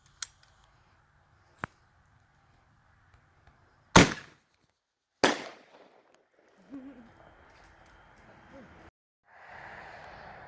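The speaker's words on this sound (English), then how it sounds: "37 millimeter surplus flare. Shoot it when you're ready." A 37mm launcher fires a surplus flare round outdoors, with a sharp loud pop followed by a second crack about a second later, then a fading hiss and rumble; brief clicks come before it and voices are heard afterward.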